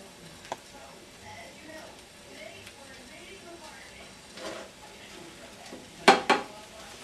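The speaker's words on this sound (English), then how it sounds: "run it down the one side while you tip the frying pan" A spatula scrapes around an omelet in a tipped frying pan, giving soft scraping and light metallic clinks over a quiet background. A sharper pair of scrapes comes near the end.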